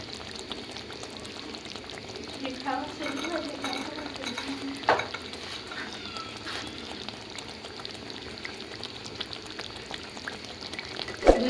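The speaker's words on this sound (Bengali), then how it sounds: "হালকা মিশিয়ে দেব।" Pangas fish curry being stirred in a pan after cumin powder and coriander leaves go in, close scraping and soft sizzling with a wet slosh midway and a sharp clink at the end, no talk.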